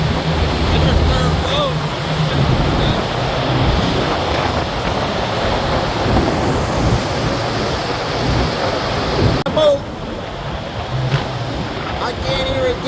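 Strong wind buffets the microphone on the open top deck of a San Francisco tour bus, a loud continuous roaring rush that swells and dips throughout, with a few faint voices underneath.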